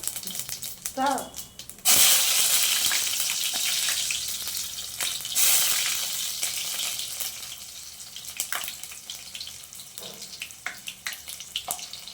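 Cumin seeds hit plenty of hot oil for a fish curry and sizzle with a loud, bright crackle that starts abruptly, then settles into a steady hiss with scattered pops while a voice talks briefly over the frying.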